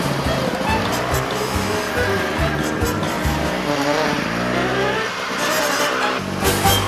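A group of snowmobiles fires up and takes off together, their engines revving and droning loudly in a steady, layered roar with shifting pitch as the sleds pull away on a snowy trail.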